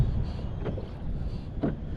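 Wind rushes steadily over a small fishing boat on open water, a continuous low buffeting roar with two brief gusty swells.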